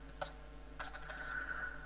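A few quick keystrokes tapped on a computer keyboard, a short burst then a busier cluster of clicks, close and alone with no voices.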